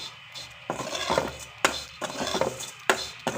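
Vermicelli is stirred and roasted in a pan, giving repeated dry scraping and clinking strokes from a spatula against the pan, close and fairly loud, in an irregular rhythm with short pauses between strokes.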